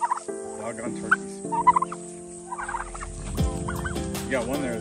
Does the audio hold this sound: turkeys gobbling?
yes